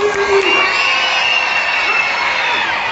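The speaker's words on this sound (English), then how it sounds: "everybody scream!" A crowd at a SeaWorld dolphin show in Orlando screams and cheers, a loud sustained wall of shouting voices with children's shrieks and whoops throughout.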